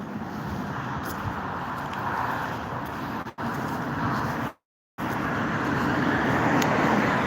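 Traffic on the Kyiv-Odesa highway at the 27th kilometre makes a steady, broad roadway roar with passing cars, heard close and continuous, broken briefly by a short dropout near the middle.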